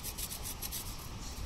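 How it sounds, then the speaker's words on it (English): Food grated by hand on a fine grater while making vegan bean burgers at a campsite gives rapid, rhythmic rasping strokes, close and fairly quiet, without talk. "But it would take so much longer to grate."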